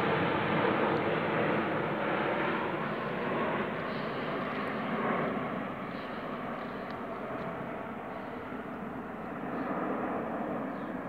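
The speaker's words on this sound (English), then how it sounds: "The aeroplanes are relentless here." Aeroplanes taking off overhead near a canal towpath, a broad steady jet roar that swells slightly and fades while staying constant throughout, loud and continuous with no talking.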